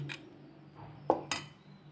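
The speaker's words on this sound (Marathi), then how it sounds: "आपण हे एका बाउलमध्ये काढून घेऊया सगळं." A spoon scraping fresh coconut chutney from a mixer jar into a bowl gives two or three short, quiet metallic knocks and clinks against a faint background.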